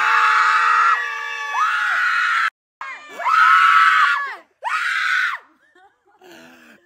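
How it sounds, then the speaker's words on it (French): People at an influencer game event scream loudly for the winner in sustained, high-pitched bursts that cut off abruptly between shouts, then fade into a few quieter yells. "Un maximum de bruit pour la gagnante Camélia."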